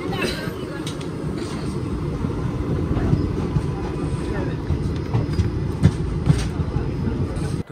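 A moving express passenger train on the Varanasi–Jammu Tawi route gives a steady loud rumble from inside the coach, with faint rhythmic clicks of the wheels over rail joints.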